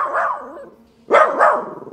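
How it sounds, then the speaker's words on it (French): A dog barking in a Roblox horror roleplay game: a few loud, close barks, one bark followed by a short pause and then two quick barks in a row, with no talking. "Pourquoi tu aboies, Knacky?"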